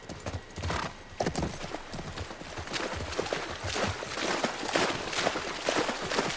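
Horse hooves clip-clop steadily in The Last of Us Part II, with several horses walking close by, a brief whinny, and a busy, fairly loud stream of hoofbeats throughout.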